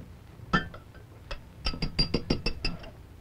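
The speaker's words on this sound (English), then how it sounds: "some of that fine Seal Test vanilla ice cream, and just put it right here in the glass." Vanilla ice cream goes into a glass dish on a 1950 live puppet television show, giving a few isolated taps followed by a quick run of bright, close glassy clinks.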